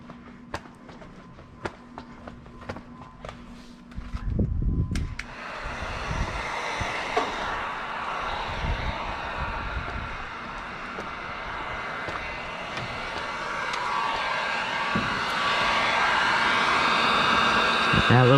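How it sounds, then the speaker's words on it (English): Heat gun blowing while tint film is applied to a Jeep windshield, a steady loud rushing roar that starts after a few seconds of quieter handling noises and continues to the end. "Heat gun."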